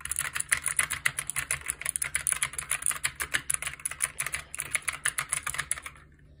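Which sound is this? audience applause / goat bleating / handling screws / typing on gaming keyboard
typing on gaming keyboard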